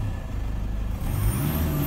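A diesel engine in a Toyota Hilux, the 1KD-FTV, runs nearby with a low, steady rumble that rises slightly partway through, alone and without any talking.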